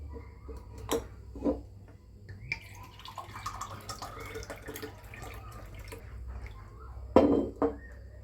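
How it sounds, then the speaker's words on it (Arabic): Water is poured into a blender jar in a home kitchen, a soft splashing trickle with scattered clinks and drips, close but quiet, with no talking. "في شفشق الخلاط هحط 3 كوبايات ميه"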